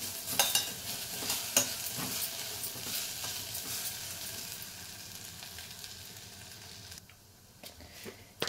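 Peanut powder mixture being stirred in a hot pan for an aloo curry to go with poori, scraping spoon strokes over a crackling sizzle that quiets near the end.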